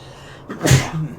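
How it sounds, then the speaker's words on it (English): A single sneeze at close range, a short sharp burst with a quick intake before it and a brief voiced tail after. "Let me sneeze real quick"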